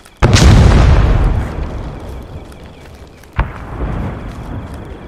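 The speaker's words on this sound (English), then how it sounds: "Blowing bomb. 3, 2, 1." A bomb blast in the Arma 3 Vietnam-era video game, one loud sharp boom with a long rumbling decay, then a second, fainter thud a few seconds later.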